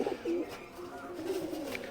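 An aggressive pet pigeon gives a few soft, low coos close by, faint and unaccompanied in a quiet room.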